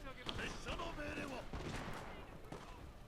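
Arrow volley loosed by archers in a Shogun 2: Total War battle, a dense spread of sharp overlapping snaps and thuds at moderate distance amid background battle noise and voices.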